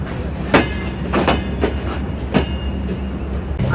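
The Sagardari intercity express rolls along the rails from Khulna with a steady rumble and rhythmic clickety-clack of wheels over track joints, heard from on board.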